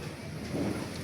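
Rain pours steadily in a storm at night in Tanza, Cavite, while low thunder rumbles faintly beneath it, a quiet and diffuse wash with no voices.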